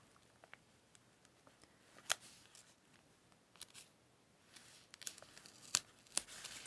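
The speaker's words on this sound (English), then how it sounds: "It's one you've got to peel the backing off." Paper-backed sticker having its backing peeled away, giving soft crinkly tearing rasps in short bursts with a few sharper rips, close and quiet in a still room.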